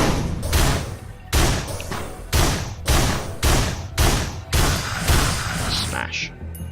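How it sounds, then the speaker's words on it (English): Slow, repeated shotgun blasts from the Enforcer character in the video game Risk of Rain, about eight heavy booming shots at a steady rhythm, loud and close, with a voice talking over them. "He has a shotgun which fires quite slowly at times"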